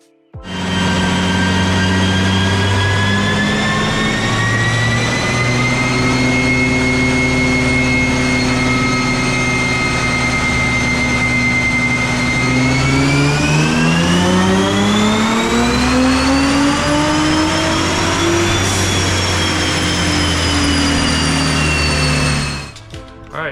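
Nissan R35 GTR on a dyno, its engine held at loud, sustained revs with a strong harmonic whine that climbs in pitch in two long sweeps, then cuts off at the end.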